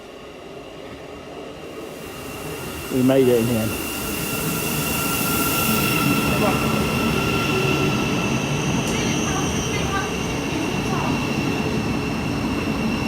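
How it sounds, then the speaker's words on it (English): A fast, busy passenger train pulls into a station and runs past the platform, with a steady loud rumble and a rising whine, a brief bright squeal near the start and a voice speaking briefly over the noise. "Here comes the train."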